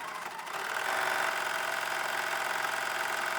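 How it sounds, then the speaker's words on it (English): A sewing machine running steadily as it topstitches around a pinafore strap, a continuous mid-pitched mechanical whir held at an even level without any talk. "we're going to top stitch around the outside of this"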